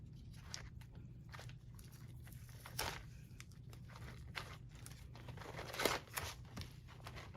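Paper page torn by hand while making a handmade journal, heard as a few close, dry ripping bursts against a low steady hum, the loudest tears near the middle and end, with no talking.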